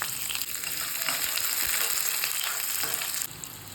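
Mustard, cumin, urad dal, dried red chillies and onion fry in hot oil as a tempering, giving a steady, close, crackling sizzle with small pops, easing slightly at the end.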